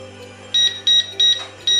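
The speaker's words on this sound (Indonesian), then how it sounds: "sesuai dengan pengaturan timer yang kita pasang, maka oven akan berbunyi" An oven's timer alarm sounds four short, loud, evenly spaced electronic beeps close by, with a faint low hum underneath.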